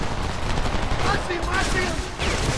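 Rapid bursts of rifle and automatic gunfire crackle through a combat firefight in the shooter game Homefront, loud and close, with soldiers shouting orders over the shooting.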